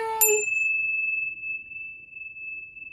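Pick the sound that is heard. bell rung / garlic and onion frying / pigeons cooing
bell rung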